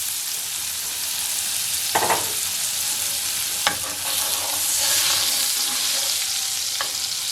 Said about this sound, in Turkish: Tereyağımız biraz erisin.